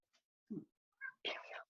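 A house cat gives a few soft, short meows and chirps close by, ending in a longer drawn-out call, all quiet against silence.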